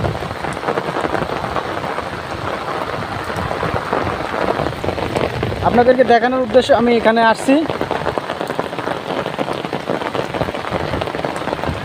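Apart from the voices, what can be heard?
heavy rain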